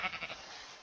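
A sheep in the Eaglercraft block game gives a short, faint bleat, a few wavering pulses that trail off quickly.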